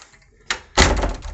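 A hospital room door swings and shuts nearby, giving a soft bump followed by a louder, resonant thud that lingers briefly, with no voices.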